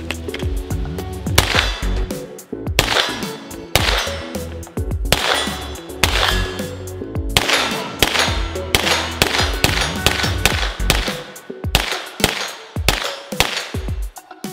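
A CZ Scorpion Evo 3 submachine gun fires a long, close series of sharp shots, with cracks coming in quick bursts and single reports and bright metallic ringing between them.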